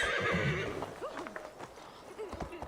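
A horse whinnies loudly in the video game Assassin's Creed Valhalla, followed by scattered clip-clopping hooves and a few short snorts, with a voice faintly mixed in.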